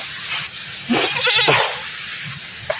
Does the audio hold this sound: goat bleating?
yes